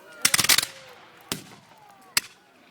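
Musket and cannon fire at a War of 1812 battle reenactment: a ragged, rapid volley of sharp cracks, then two separate single loud reports spaced about a second apart, echoing outdoors.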